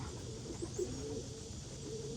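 Six-month-old racing pigeons cooing softly outdoors, a few low throaty coos over steady background noise, faint and intermittent.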